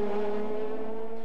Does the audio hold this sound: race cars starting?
yes